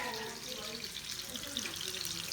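A kitchen faucet runs for a quick wash of food while tandoori lamb burgers are being made. It makes a faint, steady rushing hiss of water with a low voice mixed in.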